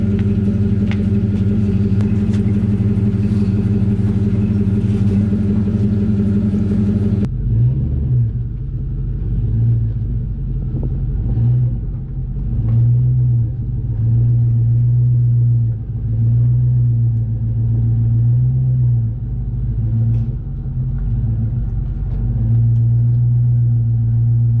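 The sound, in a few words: pickup truck being driven and parked in a shop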